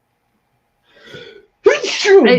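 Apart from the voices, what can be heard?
sneeze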